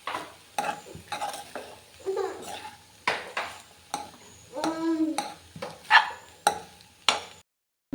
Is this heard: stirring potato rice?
yes